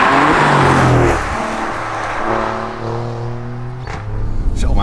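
An Alfa Romeo Giulia QV accelerates hard, its engine rising in pitch through gear changes with a loud, throaty roar heard from inside the car, and a brief voice near the end.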